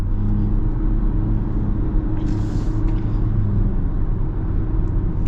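A modified 2024 Ford Ranger pulls hard with a steady, loud, deep engine rumble heard from inside the cab, the drone holding even throughout.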